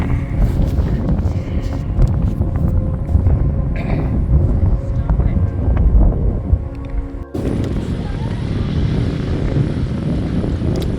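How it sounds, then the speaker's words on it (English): Strong wind roars steadily across the microphone outdoors in the Grand Tetons and Yellowstone area, a loud continuous buffeting rush that shifts abruptly partway through. "The wind is actually blowing enough that we might get wet here."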